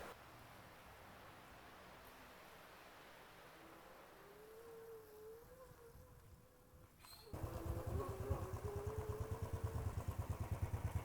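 Motorcycle engine running on a campus ride at IIT Madras, a faint steady hum that suddenly rises into a louder, close, throbbing engine drone with a rapid regular pulse, no talking.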